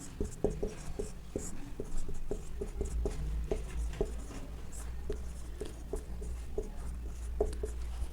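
Chalk or marker strokes tap and scrape across a board during a classroom lecture, steady short knocks in a quick rhythm, close and moderately quiet over a low room hum.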